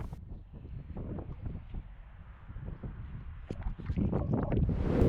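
Wind blows outdoors along a taxiway at Tehachapi airport, buffeting the microphone in rough, low gusts that grow stronger toward the end.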